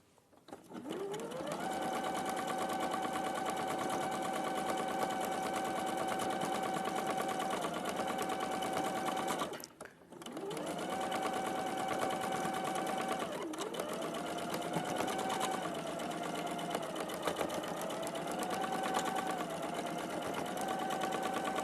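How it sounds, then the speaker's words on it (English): A sewing machine stitches steadily at close range on a live sewing show, its fast rhythmic whirr running continuously with one brief pause partway through. "Being very naughty there and sewing over them"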